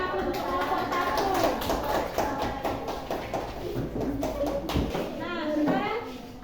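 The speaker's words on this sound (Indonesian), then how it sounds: "kita berikan aplaus untuk kelompok 1." Classroom applause for a student group, a loud spread of claps from many children that runs throughout, with children's voices mixed in beneath it.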